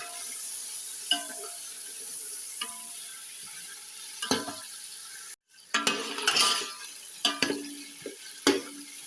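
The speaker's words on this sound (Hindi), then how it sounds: "अब हम इसमें ये कटे हुए प्याज ऐड करेंगे। अब हम इसकी भुनाई करेंगे।" Chopped onions frying in a pot for chicken and pea pulao sizzle softly beneath scattered clinks and scrapes of a stirring spoon, with a brief cutout and livelier stirring bursts afterward.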